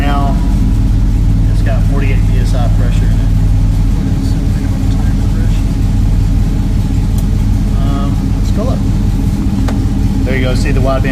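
A truck engine idles loudly and steadily at close range, a constant low rumble that fills the whole stretch, with someone talking over it.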